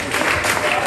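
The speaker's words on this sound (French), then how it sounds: "Applaudissons le Seigneur." A church congregation applauds in praise, a steady wash of many hands clapping at once, continuous and fairly loud throughout the brief moment.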